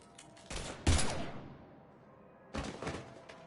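Gunfire in Mass Effect 3 cracks out in two short, sharp bursts separated by a lull, each a cluster of quick shots, fairly close and moderately loud with no talk over it.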